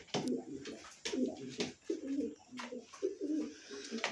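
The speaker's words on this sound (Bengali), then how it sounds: "খুবই সুন্দর কবুতর।" Red checker racing pigeon from a pair of proven racing parents coos in a steady series of soft, low, throaty calls, close by and fairly quiet, with faint background noise.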